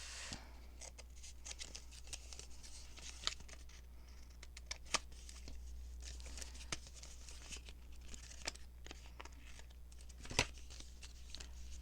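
Scissors snip through a long paper sticker while crafting a junk journal pocket, giving soft, close crinkling and several sharp little cuts over a quiet room background.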